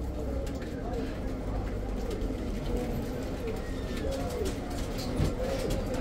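Pigeons coo steadily at an outdoor pigeon market in Baghdad's Adhamiyah district, a continuous layered murmur of birds under the chatter of traders haggling nearby.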